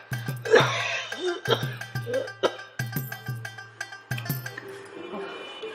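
A man coughs repeatedly in harsh, chesty bursts, about seven rough coughs spaced roughly half a second to a second apart, close and loud, with strained breathing between them.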